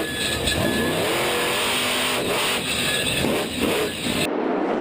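A Captain America monster truck engine roars and revs hard in a sustained, loud burst at the start of a 2012 freestyle run, with crowd noise behind, cutting off abruptly near the end.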